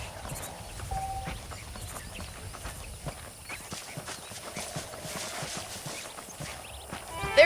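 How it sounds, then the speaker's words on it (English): Saddled horses in the Western video game Red Dead Redemption walk with a steady, even clip-clop of hooves, soft and close against a quiet ambient background. "The horses are saddled up over here."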